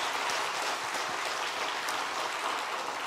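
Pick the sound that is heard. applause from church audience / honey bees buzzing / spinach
applause from church audience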